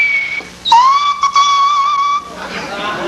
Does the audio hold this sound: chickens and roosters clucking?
no